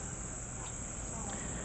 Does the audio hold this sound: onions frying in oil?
no